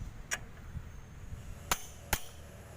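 Sharp metallic hammer blows on a motorcycle engine with a slipping kickstart, three isolated strikes spread over a few seconds, close and distinct against a quiet room hum.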